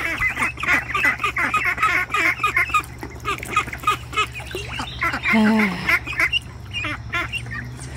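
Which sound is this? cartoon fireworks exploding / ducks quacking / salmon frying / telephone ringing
ducks quacking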